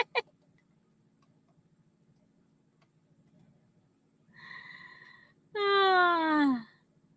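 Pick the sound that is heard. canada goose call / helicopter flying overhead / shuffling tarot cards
canada goose call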